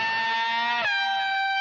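Distorted electric guitar playing a short metal lick, a sustained high note bent and then shifting to a new pitch with a hammer-on, loud and close with no talking.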